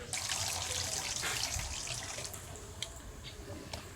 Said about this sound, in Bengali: চালটা এখন ধুয়ে নিচ্ছে।